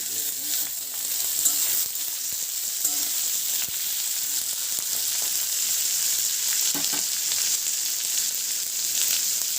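Ginger paste, tomato and carrot fry in a hot pan with a steady, dense sizzle, broken by occasional soft clicks and scrapes of stirring throughout.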